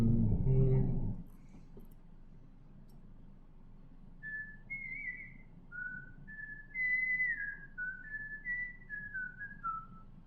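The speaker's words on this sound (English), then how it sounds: "Love whistling." Someone whistles a wandering, melodic tune in a string of clear rising and falling notes. Soft rumble and faint background noise sit beneath, and a brief louder rumbling sound comes just before the whistling starts.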